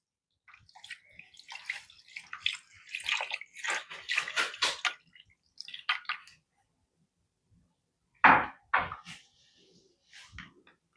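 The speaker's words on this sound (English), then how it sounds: "While pouring in your water, you have to be considerate." Water poured slowly into a pot for fish pepper soup, with splashing and gurgling bursts that stop and start, and later a few sharper pouring spurts.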